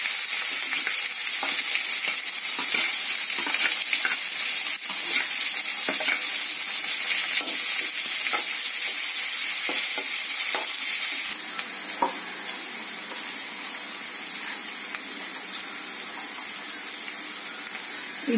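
Onions sizzle loudly in hot oil with mustard seeds in a pan, a dense continuous frying hiss broken by regular stirring scrapes, easing slightly in intensity partway through.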